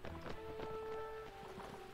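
Hoofbeats of a horse galloping in the video game Mount & Blade: Warband thud in a quick, uneven rhythm, fairly soft, beneath a sustained tonal hum.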